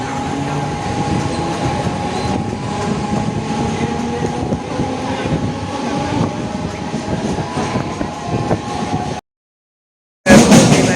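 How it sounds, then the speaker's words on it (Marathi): A Mumbai local train pulls away from Kurla station, wheels rumbling and clattering steadily on the rails with a faint squeal, then a brief cut to silence before the noise returns. "कुर्ल्यावरून ट्रेन निघाली."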